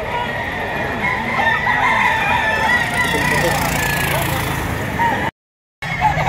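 A white Kelso rooster crows at a sale in Lipa, Batangas, the call rising over busy outdoor background noise while people talk nearby.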